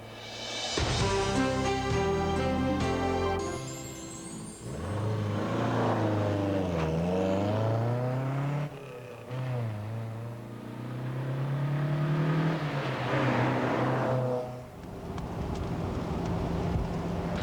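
A 1965 Lotus Elan S2 sports car engine revs and roars as it accelerates through several gear changes, rising and falling in pitch, loud and close, with no talking.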